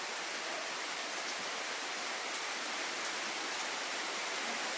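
Steady rain pours down continuously, a dense even hiss with no pauses and no voices.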